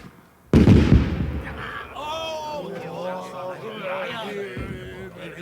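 A loud cannon shot booms at once in a Battle of Borodino reenactment, followed by voices talking over a lingering rumble, then a second softer thud near the end.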